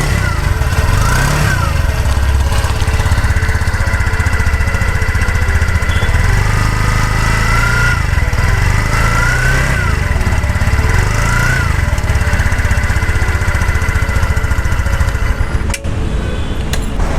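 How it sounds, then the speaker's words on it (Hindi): A 2024 TVS Jupiter 110 scooter idles and revs close by through its exhaust, a loud steady burble with several rising and falling throttle blips before it cuts off near the end. "किस तरीके का ये एग्जॉस्ट साउंड करता है वो भी आपको फटाक से सुना देता हूँ।"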